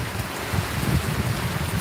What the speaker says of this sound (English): True, the rain is calming.